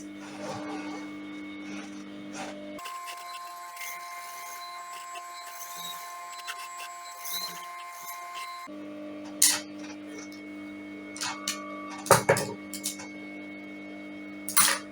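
A sewing machine stitches around a welt pocket, its motor running in steady mechanical bursts with a humming drone, a pause partway through, then sharper clicks and clatters near the end.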